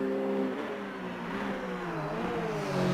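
Outside view of an Aston Martin GT4 race car in a racing video game, its engine humming steadily with small pitch wobbles as revs ease off and then build again, alone without voices.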